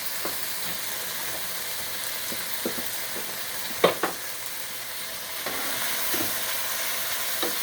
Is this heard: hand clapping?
no